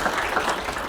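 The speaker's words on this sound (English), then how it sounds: "Let's give him a round of applause." Audience applause fills a business leadership forum after a CEO is introduced, a steady dense wash of many hands clapping throughout the short burst, with no talk over it.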